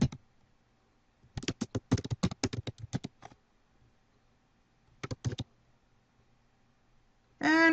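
An orchid name being typed on a computer keyboard: quiet, close key clicks in two bursts, a rapid run of a dozen or so strokes followed after a pause by a short cluster of three or four taps.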